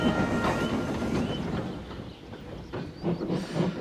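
A train coasts steadily downhill along the rails, its low rumble and rattling wheels continuous, with faint hiss and occasional clacks.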